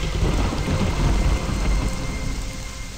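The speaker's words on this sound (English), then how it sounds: "See, the rainstorm hasn't dissipated yet" Heavy rain pours down in a video game rainstorm under a deep, continuous rumble of thunder, loud and enveloping throughout with no voices.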